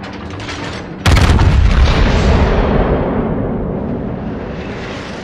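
A battleship's main guns, the Musashi in a naval video game, fire as one heavy, loud boom that rolls out into a long, slowly fading rumble, with quieter distant thuds just before it.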